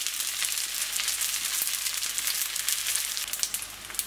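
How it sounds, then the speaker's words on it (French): Chicken and pepper cigars fry in oil in a pan over low heat, a dense, even sizzle that stays close and steady throughout with no voices. "Dans une poêle, j'ai mis de l'huile et je vais commencer à cuire les cigares côté fermeture."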